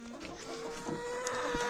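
Hens clucking softly in a quiet yard, several short irregular calls close by with faint background noise.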